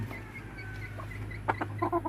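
Quiet farmyard ambience with a steady low hum, then a short burst of soft clucking from a nearby blind chicken toward the end.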